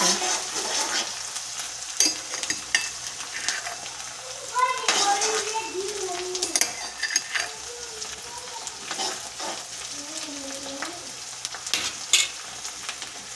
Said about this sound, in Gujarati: તેમાં લીલા મરચાં, આદુ લસણની પેસ્ટ નાખીશું.